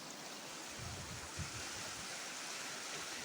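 Fast-flowing floodwater after heavy rain near a village dam overflow, a continuous broad rushing roar of water, steady and fairly close, with a few slightly louder surges.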